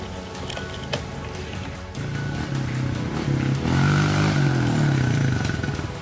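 A pit bike ridden on a backyard dirt track, its small engine first faint and distant, then revving louder and closer with a buzzy, choppy note.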